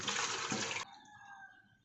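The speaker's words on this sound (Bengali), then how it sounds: "দিয়ে দেবো পানি" Water pours in a loud, dense gush into a pressure cooker holding beef biryani potatoes with salt, saffron, ginger and garlic. It lasts under a second, then stops abruptly, leaving a faint lingering hiss.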